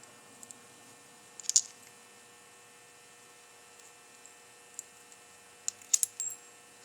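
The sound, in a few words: copper washer being handled, metal clinking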